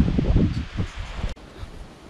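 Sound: wind blowing in the countryside

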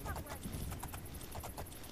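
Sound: horse hooves galloping in the video game Oblivion

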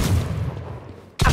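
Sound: gunfire in a video game

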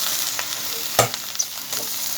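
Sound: stir-frying pickled mustard greens in a small pot

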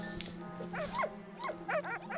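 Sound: dogs barking in a video game

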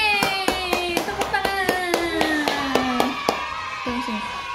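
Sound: hand clapping

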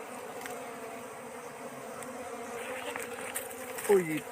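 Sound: bees buzzing around a wild honeycomb

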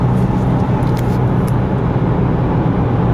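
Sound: Isuzu D-Max pickup cabin noise at about 100 km/h

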